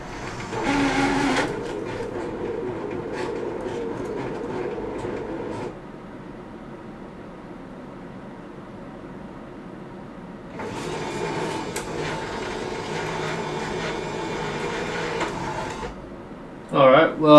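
A Bambu Lab X1 Carbon 3D printer whirs and grinds mechanically while loading a green filament spool, in two loud stretches separated by a quieter hum, with a short clatter at the end.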